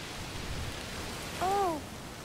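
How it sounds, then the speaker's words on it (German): Steady heavy rain in the video game A Plague Tale: Requiem hisses as a broad wash of noise, with a short tonal call gliding briefly above it near the end. "Oh, es regnet ganz schön doll."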